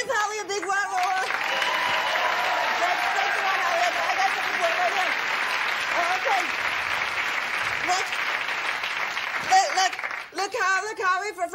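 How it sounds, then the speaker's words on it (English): Studio audience at a late-night talk show breaks into loud, sustained applause that fills the room, with a voice talking over the start and again as the clapping fades at the end. "give Holly a big round of applause"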